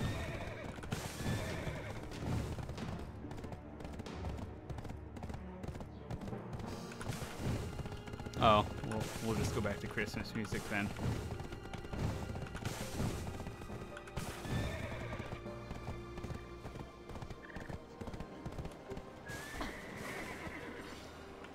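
Horses in Black Desert Online whinny and neigh in bursts while hooves clop steadily, with music and other game sounds underneath and occasional talk.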